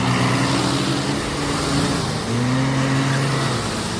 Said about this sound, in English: a tractor roaring in desperation, wheels spinning helplessly in deep, wet sludge